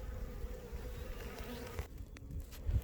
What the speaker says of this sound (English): This is the one entrance into the beehive. And look at all the bees going in and out.